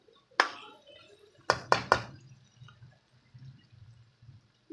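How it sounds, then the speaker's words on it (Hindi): A small splash of water goes into frying masala of onions and spices for a potato and egg curry: a few sharp knocks and splashes close by, then a faint, low sizzle. "हल्का सा हम इसके अंदर पानी का छींटा ऐड करेंगे।"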